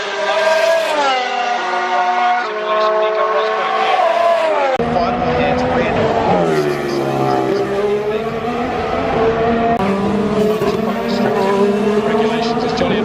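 Formula One race cars scream past at speed during qualifying at the 2016 Australian Grand Prix, loud high-revving engines rising and falling in pitch through gear changes, with commentary talk running underneath.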